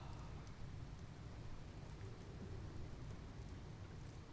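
Steady rain hisses continuously with a low rumble of thunder underneath, even and unbroken throughout, in the video game Skyrim.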